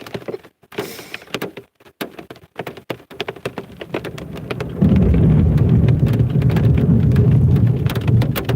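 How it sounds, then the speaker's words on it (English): Thunder rolling through a heavy rainstorm over a flooded backyard, loud and sustained, joined by sharp close rain taps and clicks and swelling into a deep continuous rumble halfway through. "Could y'all hear the thunder?"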